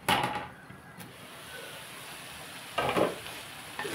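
Potatoes, beetroot and carrot fry in a pan with a soft, steady sizzle and a few louder scraping bursts from stirring, close by with no talk.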